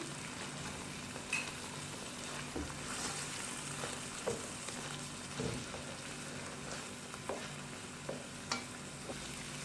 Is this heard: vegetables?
yes